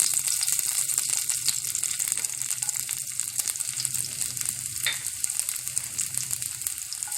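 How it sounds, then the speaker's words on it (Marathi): Garlic fries in hot oil in a pan, a bright, steady crackling sizzle that stays close and loud throughout, with faint stirring scrapes. "त्याच्यामध्ये आता मी लसूण घालून घेणार आहे"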